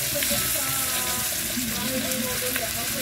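Dried fish, tuyo and daing, frying in hot cooking oil in a pan, giving a steady, dense sizzle and crackle that holds evenly throughout at close range.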